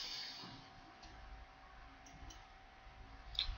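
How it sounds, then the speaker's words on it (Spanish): A few faint computer mouse clicks in a quiet room over steady low electrical hum, sparse single taps spread across a few seconds, soft and close. "Y voy a dar clic en duplicar."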